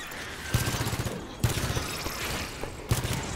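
Video game gunfire from Halo 5: Guardians, a steady rattling automatic burst punctuated by three louder booming shots, continuous and close.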